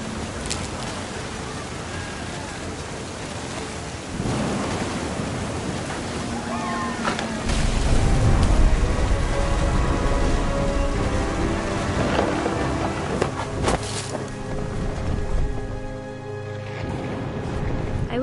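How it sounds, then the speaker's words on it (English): In the What Remains of Edith Finch video game, heavy rain and rolling thunder swell, with a loud thunder rumble in the middle and a steady wash of rain and surf throughout. "The thunder sounded much too close and full of angry power."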